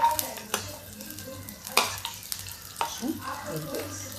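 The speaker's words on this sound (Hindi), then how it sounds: "अब इसको तड़कने देते हैं।" Spices temper in hot oil, crackling and spluttering under repeated spoon scrapes and taps against the pan. A few sharper clanks stand out, all close and moderately quiet.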